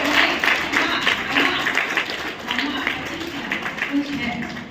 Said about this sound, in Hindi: मैं सब बच्चों से कहूँगी इतनी जोर से ताली बजाएं इनके लिए